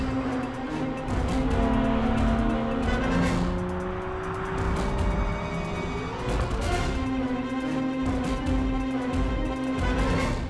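Aston Martin DB sports car driving at the Kyalami circuit, a steady engine drone with shifting tones as revs rise and fall, loud and continuous throughout.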